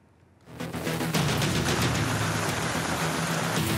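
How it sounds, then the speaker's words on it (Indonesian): Heavy rain pours down in Jakarta, starting abruptly from near silence and swelling within a second into a dense, loud, continuous hiss of downpour that holds steady, with no voices. "hujan deras di Jakarta tidak hanya membuat banjir menggenang"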